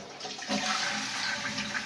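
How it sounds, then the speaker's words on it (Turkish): A pull-type toilet flushed with its supply valve shut, emptying the cistern: a close, steady rush of gushing water for about two seconds, with no voices. "Şimdi sifonu çektiğimiz zaman"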